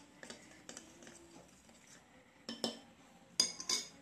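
A drink of green chillies, coriander, ginger and water being mixed for a summer cooler, faint spoon clinks and taps against a glass or vessel in a few brief bursts, quiet and close.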